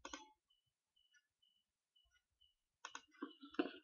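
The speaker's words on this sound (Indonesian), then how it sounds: "Kita double klik." Computer mouse double-clicks sound at the start, then a few scattered soft clicks spaced out, followed by a quick cluster of sharper clicks near the end, close and crisp against near silence.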